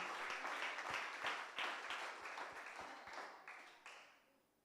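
A church congregation claps in a steady, rhythmic beat during a Sunday service, the sound faint and distant and trailing off at the end.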